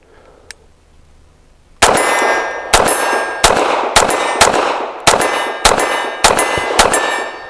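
Nine shots from a Bersa TPR 380 pistol in .380 fire in a steady string after a quiet start. Each crack is loud and sharp and rings like a struck metal target.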